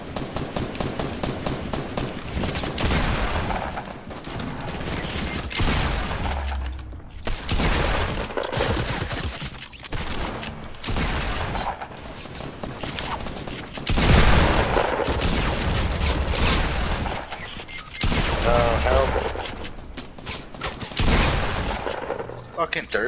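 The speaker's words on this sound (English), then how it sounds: "There's a dude up above that was just shooting." Rapid bursts of video game gunfire crack and rattle during a battle royale match with chug jugs and med kits, loud and repeated under constant excited talk from players.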